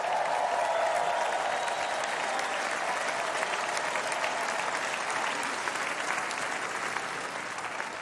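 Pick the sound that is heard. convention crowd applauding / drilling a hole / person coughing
convention crowd applauding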